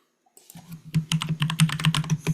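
Rapid, uneven keystrokes on a computer keyboard, close and clear, as someone retypes a command in geometry software; the clicks run steadily for about two seconds with no talking.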